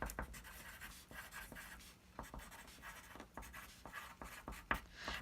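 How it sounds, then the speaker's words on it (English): A pen or marker scratches across a diagram in short, uneven strokes and taps, faint and close, with no talk over it. "So I'm just going to quickly write it up here because I'm running out of room."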